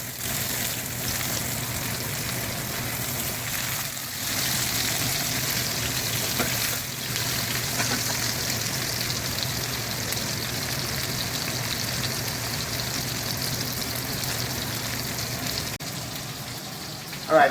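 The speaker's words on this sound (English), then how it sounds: "You do not want the steak in the pan for very long." A steak sears in hot melted butter in a pan, giving off a steady, dense sizzle that holds close and even throughout.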